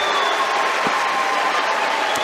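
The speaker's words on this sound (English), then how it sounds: "the Cameron crowd gives Toby Fournier a big round of applause for an incredible sophomore season" The Cameron crowd applauds at a women's college basketball game between Duke and Baylor, a loud, dense, sustained ovation filling the arena with scattered cheers mixed in.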